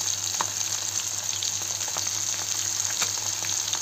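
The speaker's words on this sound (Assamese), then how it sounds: "এখিনি ভাজা হ'ল এখিনি থৈ দিছোঁ বাকী ইফালে আপোনাৰ ভাজি আছোঁ" Food fries in hot oil in a blackened wok, giving an even, continuous sizzle with light crackles and pops throughout, close and steady with no voices.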